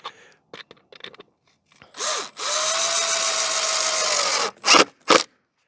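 A power drill drives a long screw into a beehive box fitted with insulation, giving a loud, close whirring burst that winds up and runs for about two seconds, framed by short rattling knocks and thuds on the wooden box.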